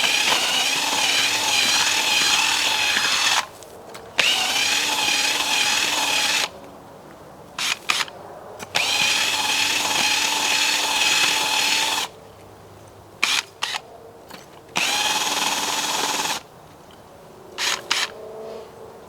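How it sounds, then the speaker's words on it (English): Cordless drill turning an auger bit to dig a hole back out of the ground at a trap site, running in several loud, close bursts of steady whirring separated by short pauses and handling clicks. "I'm just using this auger on this drill to dig this hole back out"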